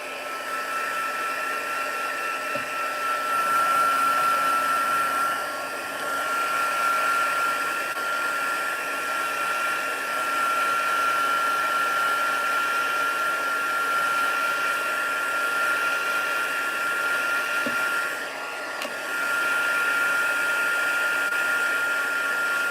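A hair dryer runs steadily for over twenty seconds, drying fresh Colorista marker coloring on a sunflower drawing, its constant whooshing airflow loud and close with a faint high whine and only brief dips in level.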